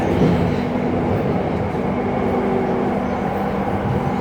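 A steady, loud rumble rides inside a light rail (LRT) train in Palembang, with a continuous rolling drone and faint clatter of the cars throughout.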